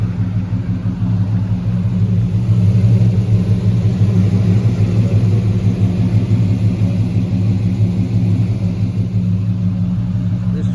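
A 1984 Chevrolet Silverado square body 4x4 half-ton pickup idles steadily nearby, a loud, even low rumble with no speech.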